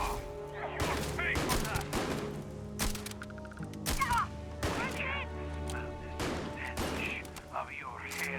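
Repeated gunshots in Starfield combat ring out at irregular intervals, several sharp cracks across about eight seconds, with a steady hum and a talking voice running underneath.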